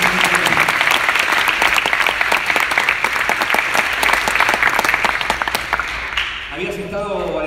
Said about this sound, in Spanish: vamos a brindar un nuevo aplauso de bienvenida a Alessandro